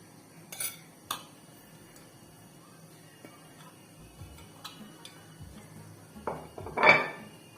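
A spoon clinks and scrapes in a cooking pot as rice, meat and vegetables are mixed, giving a few light metallic taps and a louder stirring scrape at the end over a quiet kitchen background.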